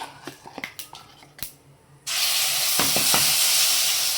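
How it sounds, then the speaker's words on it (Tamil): Ground drumstick leaf paste goes into a hot pan with turmeric for a thuvaiyal: a few light taps and clinks, then a sudden loud, steady sizzle and hiss with occasional stirring scrapes. "நம்ம அரைச்சதையும் இதில் போட்டு நல்லா கலரிடுங்க"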